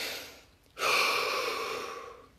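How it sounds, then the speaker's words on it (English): A single long, deep breath is drawn in through the nose or mouth, starting sharply and then trailing off slowly, close and clear in a quiet setting. "Take a deep breath."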